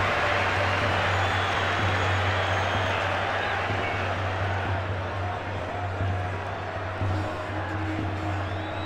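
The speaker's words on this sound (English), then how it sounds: "The crowd really enjoyed that one." A stadium crowd in Brian Lara International Cricket 2005 applauds and cheers after a boundary, a broad, sustained roar under a low steady hum, with commentary audible in places.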